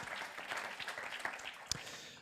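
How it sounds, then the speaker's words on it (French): Audience applause at the closing session of a futures forum, a steady patter of many hands clapping at low volume throughout, with one sharper clap standing out near the end. "vous pouvez vous applaudir"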